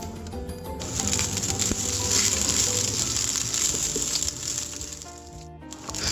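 Onion petals and cabbage pieces sauté with chopped garlic in a hot oiled pan for a stir fry, a steady close sizzle and crackle with scraping and clinking as the vegetables are stirred and tossed.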